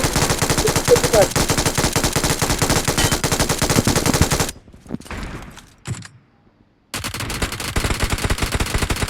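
Loud, dense machine-gun bursts in a video-game firefight, rapid continuous fire that cuts out briefly into quieter scattered sounds before resuming at full intensity.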